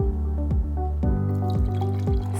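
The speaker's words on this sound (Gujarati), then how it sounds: "તેમાં રહેલા પાણીને અન્ય ગ્લાસમાં ઠલવવા માટે" Water poured from one glass into another in a children's activity: a close run of regular dripping, gurgling plops, about two per second, steady and fairly loud with no voices.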